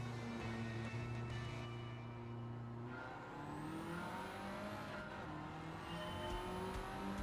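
Race car engines in the Gran Turismo 7 video game, several tonal engine whines rising and falling through gear changes as cars accelerate, a continuous, moderately loud game soundscape without talk.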